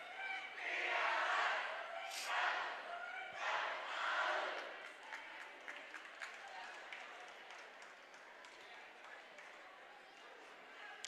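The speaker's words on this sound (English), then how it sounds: "You can hear Central's crowd." Central's fans cheer loudly at a district volleyball championship game, a roaring crowd for several seconds that fades into quieter gym ambience with a commentator talking over it.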